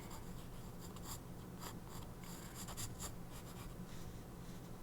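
A pen scratches across paper during a live art session using random art supplies, with steady close drawing strokes over soft background hiss and no speech.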